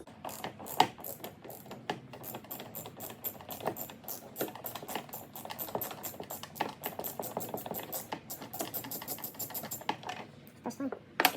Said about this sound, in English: you're gonna get your 5/16 socket with your ratchet, and you're gonna go ahead and get these two screws removed.